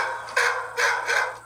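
A man imitates a dog with three loud, close barks in a quick, evenly spaced series, each a short bright burst with no other voices.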